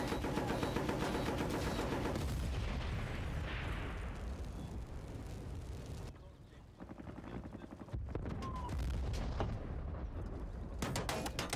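Tank cannon fire and heavy gunfire in the Battlefield: Bad Company video game, a loud, dense stream of booming shots and explosions that runs almost continuously, dips briefly partway through, then returns.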